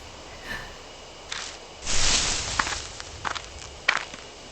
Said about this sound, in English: There are footsteps close by. From the bushes.